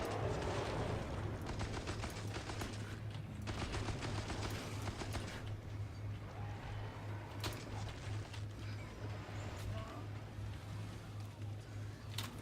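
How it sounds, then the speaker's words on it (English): Rapid automatic fire from a Tommy gun in the shooter game Killing Floor 2, loud dense bursts of gunfire over a steady game soundscape, thinning out toward the end, with no talking. "if you do decide to use the Tommy gun, you want to reload it before it empties"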